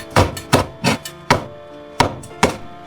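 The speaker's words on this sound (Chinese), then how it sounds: "洗淨的小米椒，切成小圈" A knife chopping small bird's eye chili peppers into rings on a cutting board, six crisp separate chops with an irregular rhythm, close and clear.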